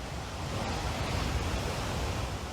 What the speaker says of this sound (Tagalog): Tubig na may halong lahar ang bumabagsak sa Bahi-Bahi Falls sa bayan ng La Castellana sa Negros Occidental.